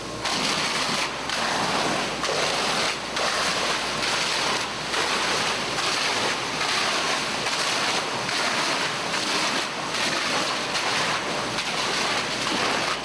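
A fire department hose stream at about 30 psi blasts against a fire-rated gypsum wall, a loud continuous rushing spray that surges and pulses in uneven bursts.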